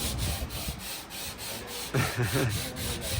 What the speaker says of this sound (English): sanding away. So we're getting there.